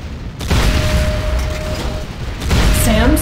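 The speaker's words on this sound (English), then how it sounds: "SAM site destroyed." A SAM site explodes in Command and Conquer Renegade, a loud, dense roar that holds for about three seconds and swells again near the end, with a brief electronic tone trailing after it.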